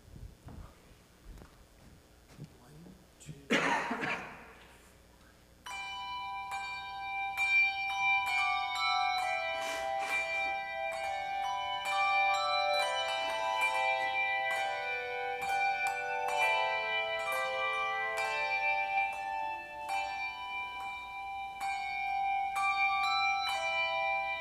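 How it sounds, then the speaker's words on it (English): Church bells play a melody during a worship service. Many ringing tones overlap and sustain for about twenty seconds after a few soft knocks and shuffles, full and resonant with no talk. "draw your attention to the music of our bells again today"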